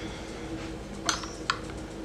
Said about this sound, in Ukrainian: І розмішую, гарно промішую все.